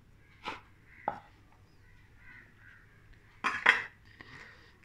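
A knife chops green chillies on a board for chilli chicken, giving a few sharp, close cuts at an irregular pace with quiet pauses between them.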